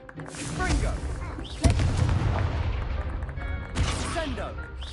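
Confringo, an explosive fire spell in Hogwarts Legacy, goes off in a duel as a sharp blast followed by a rumbling, crackling fiery burst, with a second impact later; a voice speaks over it.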